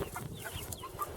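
Free-ranging chickens cluck quietly nearby, short soft clucks scattered through a brief stretch of outdoor background noise.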